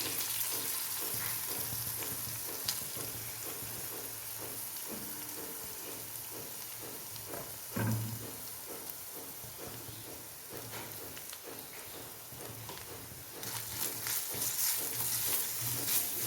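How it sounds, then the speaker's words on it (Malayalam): Grated coconut fries in a little oil in a pan for kappa biriyani, making a steady close hiss and crackle with rhythmic stirring scrapes, the sizzle swelling louder toward the end. "ഇത് ഒരല്പം തേങ്ങ വറുത്തിടാനാണ് ഇതിനകത്ത്"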